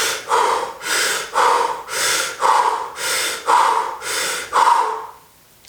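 Deep rhythmic Wim Hof style breathing, seven strong inhale and exhale cycles in a steady pulse, close and loud, then a quiet pause as the breath stops.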